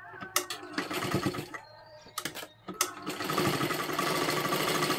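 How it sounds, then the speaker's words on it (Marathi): A sewing machine stitches fabric cut from a saree into a fancy birthday dress, opening with short stop-start bursts of stitching before settling into a steady, continuous close whirr. "इथे एक आपल्याला शिलाई करून घ्यायचं आहे"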